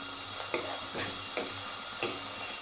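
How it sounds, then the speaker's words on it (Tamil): Chopped tomato sautés in a pan with torn curry leaves for potato poriyal, a steady sizzle punctuated by four or five regular scraping stirs of a spatula, close and alone. "தக்காளி நல்லா வதங்கிடுங்க"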